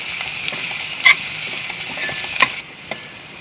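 Garlic fries in hot oil with a continuous close crackling sizzle, broken by a couple of sharper spatula clinks against the pan and no talking.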